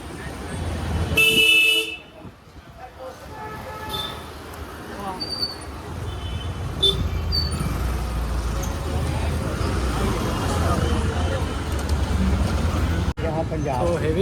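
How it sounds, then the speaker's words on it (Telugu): Heavy road traffic in Amritsar roars steadily, with a loud car horn tooting near the start and other horns beeping faintly through the dense engine and road noise. "heavy traffic"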